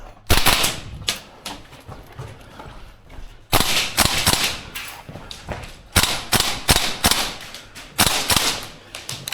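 A Tokyo Marui AK gas blowback airsoft rifle with a heavy recoil spring fires at close range in an indoor CQB course. Sharp, snappy shots come in quick bursts and singles, with short pauses between strings.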